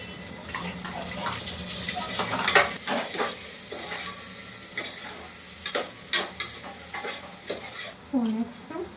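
Onion for chicken biryani sizzles in a hot pan while a spoon stirs it, giving repeated scraping bursts over a steady frying hiss, close and fairly loud.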